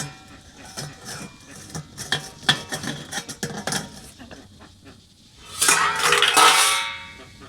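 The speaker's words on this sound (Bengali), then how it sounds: "তো 20 মিনিট পর ঢাকাটা খুলে দেখছি পিঠেগুলো কেমন হয়েছে" A lid lifted off a pot of steamed coconut-filled pitha in a home kitchen, giving a sudden loud, close rush of steam hiss lasting a couple of seconds after some quieter metallic clinks and handling noises.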